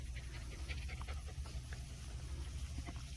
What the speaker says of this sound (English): it's such a hot day, they're just panting